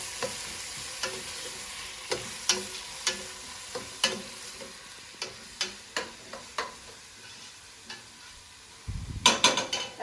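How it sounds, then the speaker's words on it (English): Onions cooking in a pan on a stove turned to high heat, a soft continuous sizzle broken by regular close clicks and scrapes of stirring, with a louder burst of frying near the end. "Now I like to caramelize the onions a little bit."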